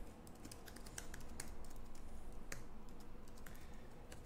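Fingers type on a computer keyboard while writing CSS code, making a quiet, quick patter of irregular key clicks with a few sharper taps, heard alone at close range.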